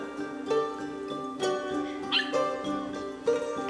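A dog meeting another dog on a walk gives a run of short whining yips and barks, several spaced bursts over a few seconds, fairly close and clear.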